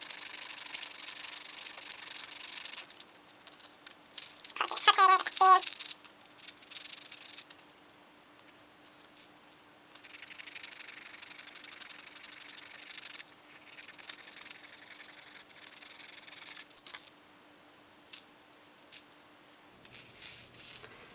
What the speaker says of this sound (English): I'm going to finish sanding these a bit more